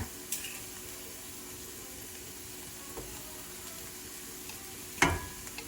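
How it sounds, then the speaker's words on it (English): Minced garlic frying in a pan and being stirred, a faint, steady low sizzle with a brief sharp clatter of utensil against pan near the end. "We're fixing to add 2 cloves of minced garlic."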